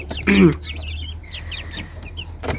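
Chickens in a coop at night holding Egyptian Fayoumi, Tiger and guinea fowl, giving a loud burst of clucking near the start, then softer scattered bird calls over a steady low hum.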